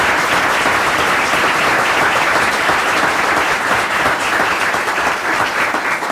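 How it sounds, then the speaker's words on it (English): A crowd applauds loudly and steadily at a council swearing-in ceremony, a dense wash of clapping that holds at full strength throughout. "Let's give them a great round of applause."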